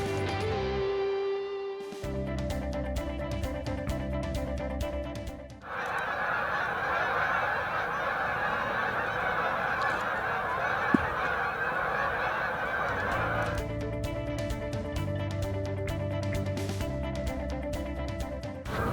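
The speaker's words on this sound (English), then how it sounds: "That was interesting, all those geese flying in." Geese fly in over a winter lakefront, honking loudly again and again, with a dense stretch of overlapping calls from the flock in the middle.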